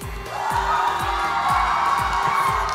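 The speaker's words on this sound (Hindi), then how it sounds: "उनके लिए एक जोरदार तालियां हो जाए." At a dance competition stage event, a crowd cheers and applauds loudly and continuously, with rhythmic low thumps pulsing underneath.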